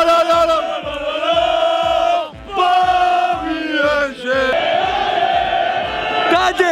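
PSG supporters chant loudly outside the Bernabéu stadium, home of Real Madrid, during its renovation before a Champions League match, a dense crowd roaring in steady rhythmic pulses with brief dips between phrases.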